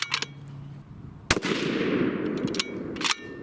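Bergara Premier .308 Winchester rifle firing a 168gr Aeromatch bullet: one loud, sharp, close report followed by a long rumbling echo, with fainter clicks before and after.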